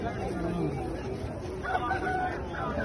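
A rooster crows partway through amid steady outdoor chatter and bustle at an Aseel bird market in Kallar Syedan, Rawalpindi, with voices talking throughout.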